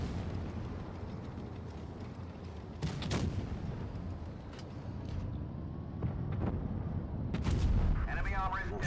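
Tank cannon fire in the mobile game World of Tanks Blitz, playing a Chieftain Mk6: several sharp booming shots over steady game ambience and low engine rumble, with a stronger cluster of blasts near the end.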